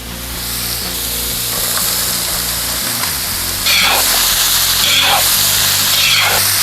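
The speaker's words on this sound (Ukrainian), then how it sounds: "цибульку з м'ясом буду смажити приблизно до 5 хвилин" Beef and onion frying together in a pan for Georgian chanakhi, a steady loud sizzle that runs throughout with faint stirring or scraping noises near the end.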